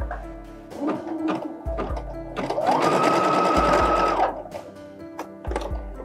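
Sewing machine running satin stitch on practice fabric: short mechanical bursts, then one longer steady whirring run, then more brief bursts, close and fairly loud.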